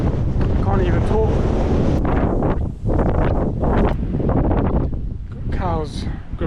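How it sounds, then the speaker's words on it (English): Strong wind buffets the microphone on an exposed coastal clifftop walk between Lulworth Cove and Durdle Door, a loud steady roar with brief lulls, while a person talks over it. "it's so windy right now"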